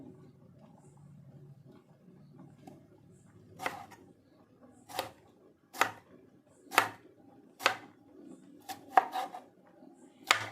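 Unripe green tomatoes chopped finely with a knife on a board: a series of sharp, distinct cuts about a second apart, close and clear over a quiet background, with faint murmuring at the start.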